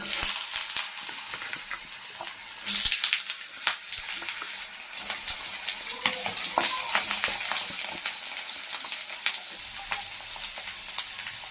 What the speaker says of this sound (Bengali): তেলটা গরম হয়ে গেছে, এখন আলুটা ভেজে নিচ্ছি।